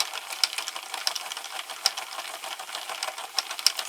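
A Sentro knitting machine is cranked at normal speed while knitting eyelash yarn, giving off a fast, light mechanical clicking and whirring with sharper ticks at irregular intervals.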